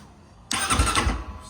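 A 2023 Apollo M6 300 EFI cross motorcycle with a fuel-injected NC182MN engine fires up on the electric start button, a sudden loud catch after a brief quiet moment, settling straight into a rough, steady idle nearby.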